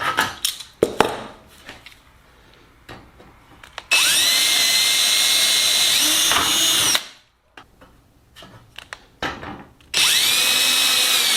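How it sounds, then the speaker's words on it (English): A power drill bores 1/8 inch holes in rear spar assembly parts for a Sonex aircraft build, with two sustained high whining bursts of a few seconds each, separated by handling clicks and taps, close by. "The rest of these will all be drilled up to 1/8 inch though."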